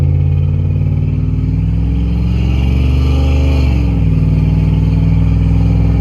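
A lifted 2003 Dodge 2500 SLT 4x4 with a 5.7L HEMI accelerating on the road, a loud, steady engine drone heard from inside the cab, rising gradually in pitch without talk.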